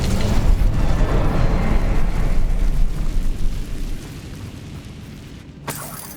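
An Incendio fire spell cast in the wizarding game Hogwarts Legacy sets off a loud roaring whoosh of flame that swells, then fades into a lower rumble, with a sharp short burst near the end.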